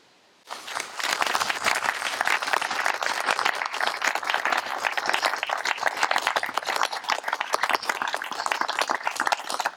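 Sustained applause from a large crowd at a memorial gathering in Brussels starts abruptly and continues steadily, dense and loud, with no talk over it.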